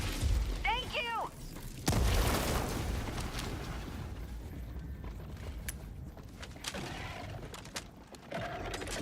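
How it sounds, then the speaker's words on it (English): Grenade blast in the Helldivers 2 video game on a top-difficulty mission, a sudden loud boom with debris crackle and shattering after a brief chirpy sound, then quieter game noise with faint voices. "Throwing grenade."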